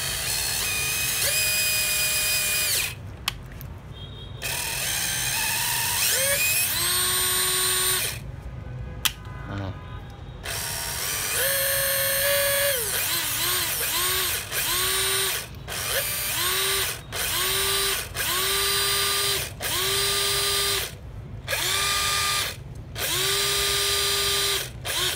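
Electric hand drill running in repeated bursts, motor whining up and spinning down between short pauses, close and loud, with a few brief gaps of quiet and clicks as the trigger is released.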